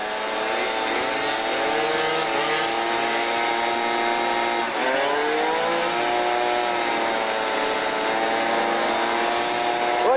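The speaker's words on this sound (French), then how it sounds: "Et accélère pas à fond, Jean-Marc." A 1998 scooter engine revs and accelerates continuously at close range, its loud whining drone holding steady with a brief dip and pitch shift partway through.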